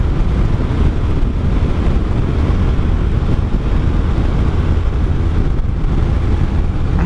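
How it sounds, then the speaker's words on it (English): A Honda V65 Sabre motorcycle engine running at road speed around 65 mph, a steady loud low drone mixed with heavy rushing wind over the microphone on an unfaired bike, continuous with no talk. "the engine purrs and runs great, doesn't skip a beat"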